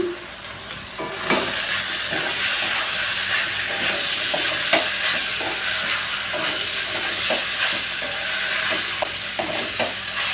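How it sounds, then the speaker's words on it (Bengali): Soybean chunks frying hard over a raised flame in a pan, a loud, steady sizzle and hiss with repeated scraping stirs throughout. "এবার আমি এটাকে ভালো করে কষিয়ে নেব বন্ধুরা"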